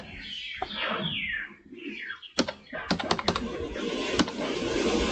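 Keys on a computer keyboard are tapped in quick bursts of crisp clicks, close and moderately loud, while birds chirp in the background as an online job application form is filled in.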